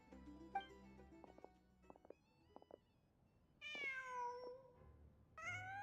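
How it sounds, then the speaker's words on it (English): A cat meows in the Genshin Impact video game, a few drawn-out, rising and falling meows against faint ambient game tones and soft clicks. "I think it's a cat."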